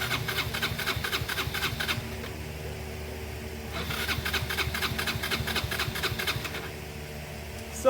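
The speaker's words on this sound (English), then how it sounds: "Let's just test the starter." Electric starter motor cranking on a Yamaha Vino 125 scooter that won't start, a steady whirring churn in two long bursts with a brief drop between, close and fairly loud with no talking.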